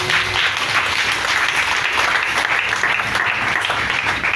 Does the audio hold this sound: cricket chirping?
no